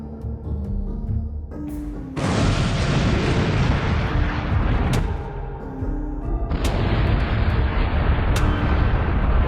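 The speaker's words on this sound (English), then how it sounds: "The munitions were destroyed in a powerful explosion." A munitions stockpile struck by a drone goes up in a powerful blast, a sudden loud broadband roar that sustains and rumbles on, punctuated by several further sharp booms as secondary detonations follow.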